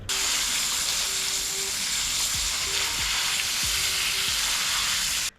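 Water rushes in a steady, loud, unbroken stream while something is given a good wash during the set-up of an African cichlid breeding tank, and the flow cuts off abruptly at the end.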